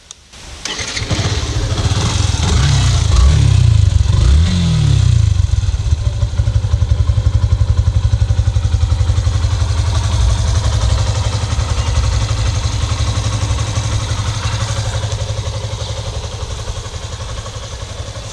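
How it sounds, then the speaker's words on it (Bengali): A Yamaha FZ version 2 motorcycle with only 3,000 km on it cranks, fires and settles into a loud, steady, close idle that holds for well over ten seconds. "আমি বাইকটাকে আপনাদের স্টার্ট দিয়ে একটু সাউন্ডটা দেখাই দিই সাউন্ড কন্ডিশনটা কীরকম আছে"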